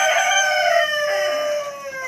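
A crested hen's loud, drawn-out call with a strained, crowing quality, heard up close and alone for about two seconds with no talking.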